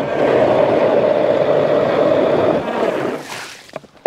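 A compact ice auger bores a hole through lake ice on a pike fishing outing, a loud steady droning grind that drops off after about three seconds as it breaks through, followed by scattered clunks and scrapes.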